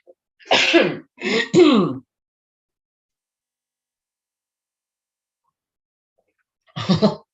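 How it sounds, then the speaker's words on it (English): A loud, close throat clearing in a few rough bursts, then a long silence before one more short clearing near the end. "you all just heard a very big clearing of my throat"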